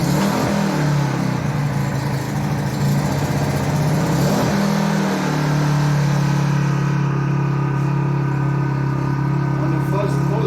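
An A-iPower GXS1500i portable generator is pull-started and settles into a steady, loud running drone, with an irregular sputter in the first seconds before the engine smooths out.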